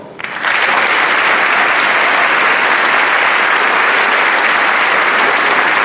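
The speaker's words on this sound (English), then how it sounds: "Applause going for our new 10th Ward Alderman Judd Lofton" A crowd at a city inauguration in Aurora breaks into loud, steady applause for a new alderman that swells within the first second and holds as a dense, continuous wash of clapping.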